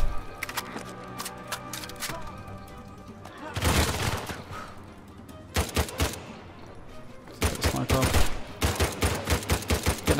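Heavy gunfire from a weapon in the video game Uncharted 4, rapid bursts of loud shots in several clusters, with sparse speech between volleys.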